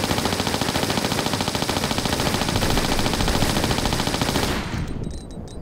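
Sustained rapid automatic gunfire in the video game Tomb Raider: The Last Revelation, loud and continuous for several seconds before cutting off abruptly near the end, with no speech over it.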